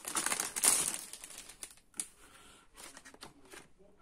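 Crinkly plastic wrapping being torn and rustled open from an Oh Boy Crafter paper pad, close up, busy at first and then thinning into scattered crackles.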